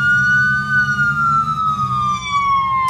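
A police siren from a truck in a driving video game wails loud and close, one long steady tone slowly falling in pitch, with no voices over it.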